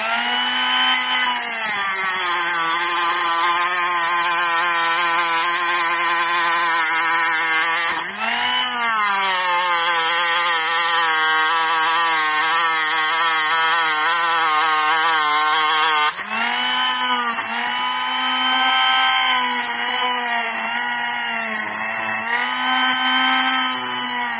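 A power tool grinds steadily through the rear differential outdrive of a WRC SBX-2 RC car, a loud continuous whine with harmonic tones that dips and restarts briefly around the middle and again near the end.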